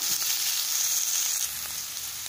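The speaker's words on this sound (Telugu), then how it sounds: "చూసారా, మనకి ఇప్పుడు క్యాప్సికమ్ కూడా ఫ్రై అయిపోయింది కదా." Capsicum frying in a pan for veg noodles, a continuous close sizzle that drops slightly in level partway through, with a few soft utensil knocks and no voices.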